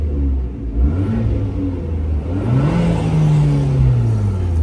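An Abarth car engine revving, heard from inside the car with the door open, a loud steady drone that rises in pitch and swells, then eases back down, with no talk over it.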